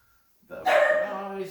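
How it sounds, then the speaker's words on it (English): Pet dog Emma barks indoors, a few loud, close, harmonic barks rising out of near silence, with a voice speaking over them. "she's barking at me"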